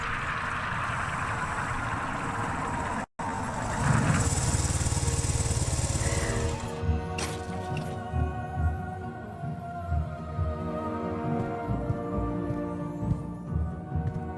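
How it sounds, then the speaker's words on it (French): Hagrid's motorcycle from a Harry Potter video game: a steady, buzzing engine drone that cuts out briefly, then returns louder with a rough, sputtering idle and uneven pulses, alone without voices. "Où avez-vous déniché cette moto?"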